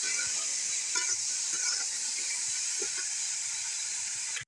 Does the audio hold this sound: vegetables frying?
yes